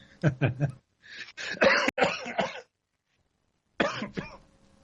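Several harsh, close coughs in bursts: a quick cluster of three, a longer rough fit, then one more after a short silence.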